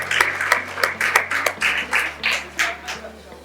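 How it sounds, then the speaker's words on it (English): Audience at a secondary school graduation clapping for a teacher, a close cluster of hands in a brisk uneven rhythm, fairly loud, with a low hum underneath. "let's once again give Miss Polly the clap that she deserves"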